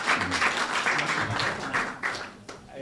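A roomful of people claps for a roads department, a dense burst of applause that stays fairly loud throughout and tapers slightly near the end.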